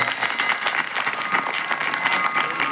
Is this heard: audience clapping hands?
yes